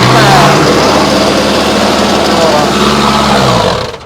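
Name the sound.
Mahindra Novo 605 tractor engine revving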